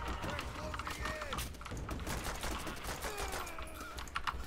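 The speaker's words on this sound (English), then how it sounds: "It's just the MG shooting at me" Machine-gun fire in Call of Duty: World at War rattles in dense, continuous bursts, mixed into a busy, noisy battlefield with voices blended in.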